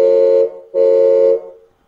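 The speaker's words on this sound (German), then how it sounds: "Kräftige Hupe und auch ein Soundmodul." Two loud, steady horn blasts from a 1:14 scale 10x10 hydraulic model crane truck's sound module, the second slightly longer, with a short gap between and a brief fade at the end.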